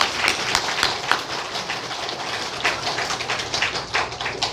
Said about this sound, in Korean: 예, 박수 주십시오.